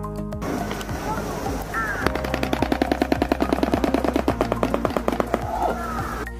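A shoebill produces a rapid, machine-gun-like burst of sharp clattering pulses for about three seconds, loud and close, framed by softer rustling and faint background sounds before and after.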